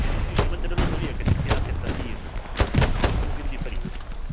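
Gunfire in the video game Hell Let Loose: rapid, loud, close shots cracking one after another in an uneven string over steady background noise.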